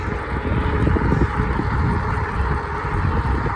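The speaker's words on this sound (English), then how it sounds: "Real windy today." Strong wind buffets the microphone while riding an Ecotric electric bike outdoors, a steady low rumbling roar with gusty flutter that keeps up without a break, loud and close.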